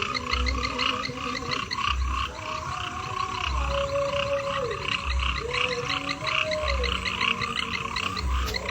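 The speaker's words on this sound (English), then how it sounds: "The frog will be disturbing." Frogs croak steadily outdoors, loud and close, with deep repeated pulses and a dense chorus of higher trilling calls running throughout.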